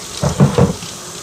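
Cold tap water rinses the tank of a Hoover PowerDash Pet carpet cleaner, heard as three quick, close splashing surges of running water.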